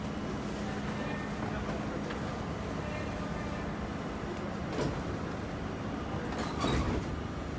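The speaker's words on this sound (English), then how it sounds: "Stand clear to close the doors, please." An NYC subway R32 train, a Budd-built car, sits with a steady low rumble and hum while its doors close, with brief thumps and a clunk near the end over constant train noise.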